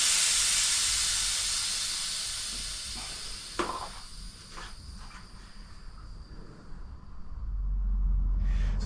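Air hisses out of an open valve on a Royal Enfield Classic 350 tyre, a loud steady rush that gradually fades, followed by a few soft clicks and a renewed low rumble.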